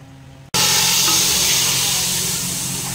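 After a brief quiet moment, a loud, steady hiss of pakoras sizzling in hot oil bursts in and continues close by.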